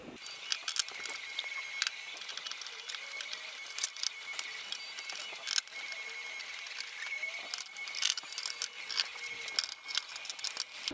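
Small screws being undone from a PlayStation 2 console case, faint close clicks and scratchy metal-on-plastic ticks scattered irregularly over a quiet background hum, with no talk.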